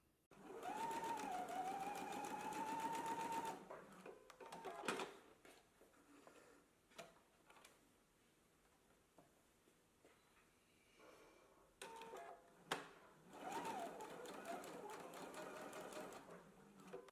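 A domestic sewing machine runs in steady bursts while reinforcing the seams of garment pockets, each stretch of stitching starting and stopping with quiet pauses between, and a voice briefly hums along during the runs.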